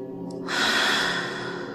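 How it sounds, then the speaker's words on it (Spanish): A deep breath taken during a guided meditation, a long airy inhale that swells and then slowly fades, close and clear with no speech over it. "Toma de nuevo una respiración profunda."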